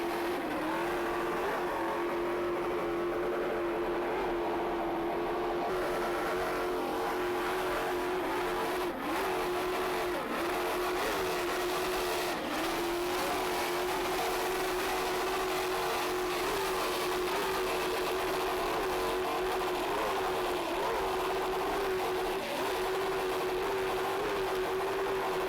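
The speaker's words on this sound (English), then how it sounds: "Just listen to Kirk Dumpman at the throttle" The Agitator race team's M class racing engine runs at full throttle, giving a steady, loud, droning roar that holds an even pitch for the full run with no voices.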